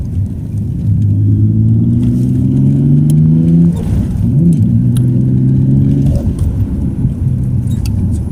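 A car accelerating hard in second gear, its engine rising in a loud steady rumbling drone, easing off briefly midway, then climbing again, heard from inside the cabin.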